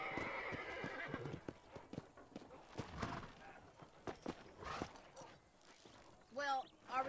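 Horse hooves clip-clop and a horse whinnies in the Western video game Red Dead Redemption, quiet hoofbeats between voices, ending in a rising, shaky neigh close by.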